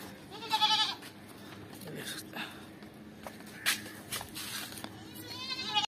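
A goat for sale at a livestock market gives a couple of short bleats over a busy background of people talking and market noise.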